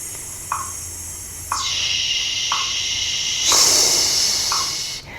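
Breathing exercise exhale: several short breathy pulses, then a long blowing hiss through pursed lips that swells into a harsher, louder shushing rush near the end, close and with no speech.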